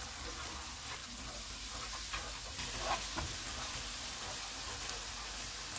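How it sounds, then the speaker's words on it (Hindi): Spice masala with tomato puree fries in oil for kabab karahi, a steady close sizzle with occasional soft stirring scrapes and pops running throughout. "मसाले को मैंने भून लिए"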